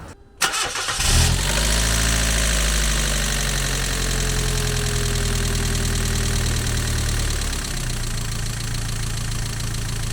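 Mazda MX-5 NA engine cranks and catches, then settles into a steady close idle with a light ticking texture, no talk.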